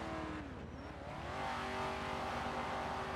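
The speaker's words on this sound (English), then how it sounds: "What a loud ass car, dude." A loud car engine in the video game GTA V, on the NoPixel roleplay server, roars steadily and close throughout, its revving tone shifting with the throttle and no one talking over it.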